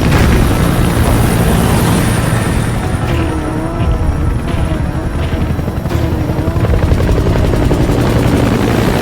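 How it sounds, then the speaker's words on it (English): A support helicopter in Metal Gear Solid V thumps loudly and steadily throughout, its rotor drone filling the whole scene without a break. "Support helicopter requested."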